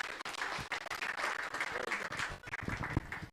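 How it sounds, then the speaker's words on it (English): A distant, fairly faint round of audience clapping for a speaker at a high-level climate leadership consultation, with uneven bursts continuing throughout. "Can we clap for her?"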